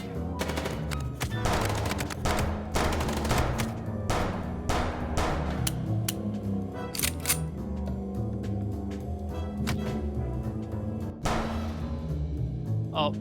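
Rapid automatic gunfire from the video game Chicken Police rattles in repeated close bursts with brief gaps, a voice speaking intermittently over the shooting.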